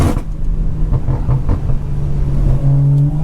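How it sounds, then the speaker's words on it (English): A BMW 340i with a B58 engine idles while warming up, a steady close low rumble with a slight rise in pitch near the end and no talking. "I'm gonna let the car warm up a little bit."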